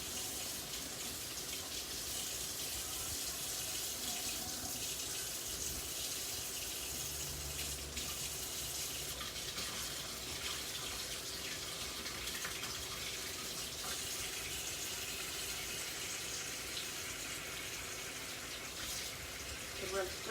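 Water runs steadily from a tap while something is rinsed off, a continuous hiss and gush throughout with a brief change in flow, under faint talk.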